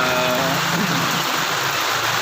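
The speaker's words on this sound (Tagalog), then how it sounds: "Ang lakas ng ulan ngayon." Heavy rain pours steadily onto a chicken coop where chicks are kept, a dense continuous hiss of drops lasting throughout with no voices.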